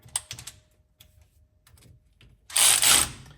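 A ratchet spins bolts into a Sterling 10.5 rear differential cover in a quick burst of clicking, followed by a louder rasping whir, heard close up amid faint workshop noise.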